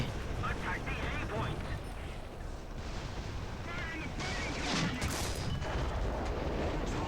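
Tank cannon fire and shell impacts rumble through a War Thunder tank battle as the player's Hetzer comes under fire, a steady dense roar of heavy booms and crackling blasts for several seconds, with someone talking excitedly over it.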